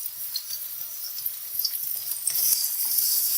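Garlic, ginger, green chilli paste and cumin frying in a pan for an eggplant curry, a steady faint hiss of sizzling oil with soft stirring clicks that grows slightly louder toward the end.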